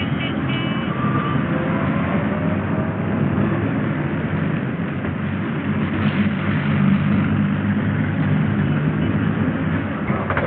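A train rides aboard a train ferry bound for Paris, heard as a steady, continuous low rumble of engine and motion noise throughout, muffled and even in loudness.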